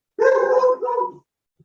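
Pet dogs barking indoors during a sit-down conversation, a close, loud burst of overlapping barks and yips lasting about a second, then quiet.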